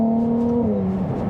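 A Ferrari 296 GTB engine hums while being driven, with a moderate steady tone that drops in pitch partway through, like a shift or easing off the throttle, heard from inside the car.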